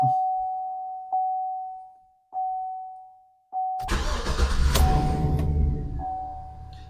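A 2009 Chevy 2500HD pickup with a 6.0L engine cranks and starts at close range, then settles into a steady idle. A few short electronic beeps come before it.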